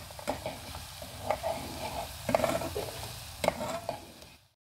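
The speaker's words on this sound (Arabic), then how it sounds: "غادي نخلي هاد البصله تشحر مزيان مع هذا الربيع" Onion fries with spices in a pan, a soft sizzle broken by several distinct spoon stirs and scrapes at irregular intervals, close by, ending in a sudden cutoff.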